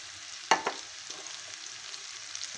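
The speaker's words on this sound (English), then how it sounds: "Potatoes have got nicely coated with the spices, so now goes in our bok choy." Bok choy and potatoes stir-frying with spices in a pan give a soft, steady sizzle, with a sharp clatter of stirring near the start and faint scraping throughout.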